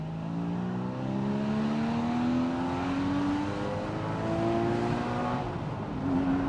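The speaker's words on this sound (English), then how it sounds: "it does have an optional valved exhaust" A Porsche Boxster with an optional valved exhaust accelerates hard, its exhaust note rising in pitch through several gear changes, loud and close with a throaty drone.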